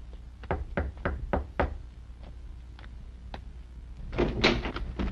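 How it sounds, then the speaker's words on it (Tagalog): A quick run of about six sharp knocks raps on a door, followed by a few scattered lighter knocks and a burst of rustling movement near the end. "Aba, si Daniel! Buksan mo pinto"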